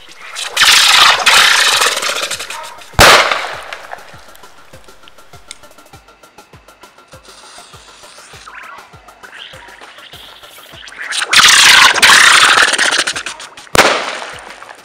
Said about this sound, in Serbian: vidjeli smo da je ova petarda stvarno šašava petarda. Okreće se ko mećava